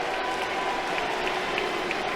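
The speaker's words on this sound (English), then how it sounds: "The crowd got riled up." College baseball crowd at an LSU versus Alabama game cheering and roaring after a disputed strike-three call and ejection, a steady, dense wash of applause and shouting that stays loud throughout.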